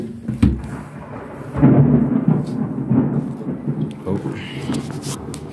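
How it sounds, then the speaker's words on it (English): Thunder rumbles through a rainstorm heard from an open window, rolling low and heavy in swelling waves over steady rain, with a brief spoken exclamation at the start. "there's some thunder for you"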